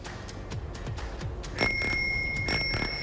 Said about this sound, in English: You better believe I'm ringing the bell here at Bikes for Kids, Wisconsin.